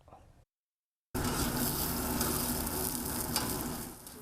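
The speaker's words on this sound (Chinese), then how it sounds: "蚵仔煎煎甲白白叫" An oyster omelette fries on a hot pan at a Lukang street food stall, giving a loud, even hiss of sizzling oil that starts suddenly after a brief silence and continues steadily.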